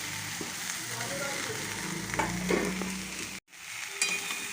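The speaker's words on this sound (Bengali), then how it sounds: "এবার এর মধ্যে সবজিগুলো দিয়ে দিলাম।" Mixed vegetables sizzle and crackle steadily in a hot pan with ground turmeric and coriander, a spoon scraping and stirring through them, before a brief sharp cut to silence and the frying resumes.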